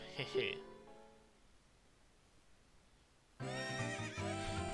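A horse neighs in The Legend of Zelda: Ocarina of Time, a loud high whinny at the start, followed by quiet and then game music.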